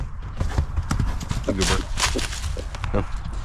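A yearling horse gives a brief squeal amid hoof clops and shuffling during hoof work, with people talking over it.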